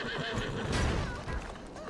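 A horse pulling a carriage in Assassin's Creed Syndicate gives a loud, close whinny lasting about two seconds, with faint hoof clatter around it.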